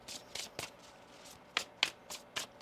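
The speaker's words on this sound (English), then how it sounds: "One more shuffle." A deck of tarot cards is shuffled by hand in a series of soft, rapid riffling bursts, about eight brisk flutters spread across a couple of seconds, close and fairly quiet with no voices.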